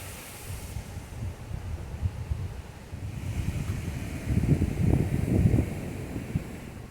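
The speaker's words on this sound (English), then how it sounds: "It is a blustery day." Wind gusting on a blustery day outside a workshop, a constant low rumbling buffet that swells louder toward the end, with no voices.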